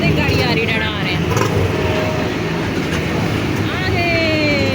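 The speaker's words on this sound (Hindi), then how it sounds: "अरे गाड़ी आ रही" A car passes close by outside a shopping mall on a hot day, a steady engine and road rumble throughout, with a voice speaking over it.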